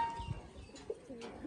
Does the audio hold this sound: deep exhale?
no